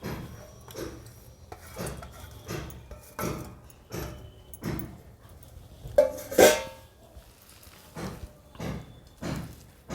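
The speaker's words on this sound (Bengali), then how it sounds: "ধনে পাতা সব আমি একসাথে মেখে নিচ্ছি" Rhythmic wet squelching and rubbing as a fish chop mixture with chopped onion and coriander leaves is kneaded together by hand, a steady series of soft strokes roughly every half second, close up, with no talking.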